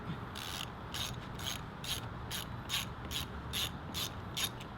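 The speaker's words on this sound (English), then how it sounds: "Get your socket wrench, long socket, not short socket. Make sure you're loosening it." A socket wrench with a long 10mm socket ratchets steadily while loosening a bolt, giving a run of evenly spaced clicks about every half second over a low background hum, with no voices.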